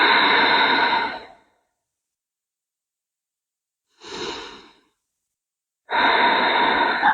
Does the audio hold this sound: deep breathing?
yes